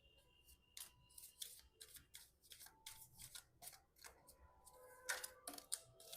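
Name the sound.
shuffling oracle cards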